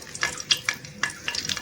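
Bay leaf and dried chilli sizzle in oil in a wok, heard as short crackling bursts and stirring scrapes in quick irregular succession, close and moderately quiet.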